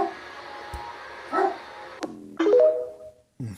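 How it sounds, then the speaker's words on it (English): Dogs barking amid a crowd scene near the Capitol with tear gas in use, a few short barks and yips heard at close to middle distance over background noise. "And now the dogs are fucking barking."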